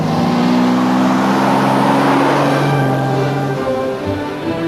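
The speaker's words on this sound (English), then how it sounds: "a lovely rise in the revs and a terrific roar from that exhaust" A Jaguar XK120 sports car engine revs up close and loud, its exhaust roaring in a strong, sustained tone that climbs, holds, then dips slightly near the end.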